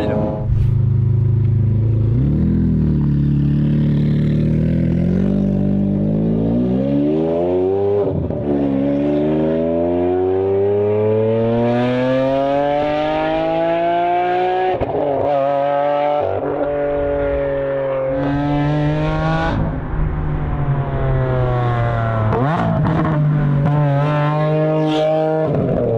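A Lamborghini Aventador SV drives along, its engine rising and falling through several long revving pulls with rumbling gear changes, close and loud throughout.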